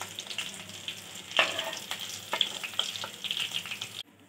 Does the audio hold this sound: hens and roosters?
no